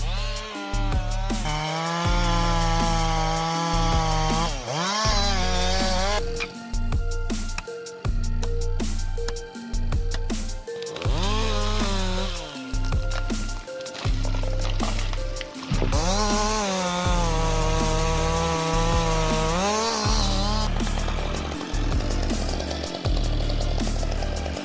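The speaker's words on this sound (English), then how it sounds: "I couldn't believe my eyes when I saw the steel MS 880 with its 59-inch bar facing a large oak tree." A Stihl MS 880 chainsaw with a 59-inch bar cuts into a large oak tree, roaring loud and close. Its engine surges and bogs in repeated cycles as it bites through the wood.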